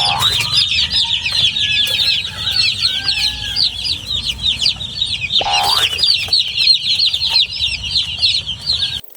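Newly arrived broiler chicks in a brooder on their first day, about 150 birds, keep up a dense, continuous chorus of high chirps and peeps. There are occasional louder cheeps and some low background rumble.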